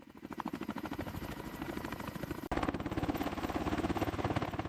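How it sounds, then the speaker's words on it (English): Several AH-64 Apache attack helicopters of the U.S. Army arriving, a loud, steady rotor thump pulsing rhythmically throughout, briefly dipping midway before returning slightly stronger. "Dozens of U.S. Army AH-64 Apache attack helicopters had begun arriving."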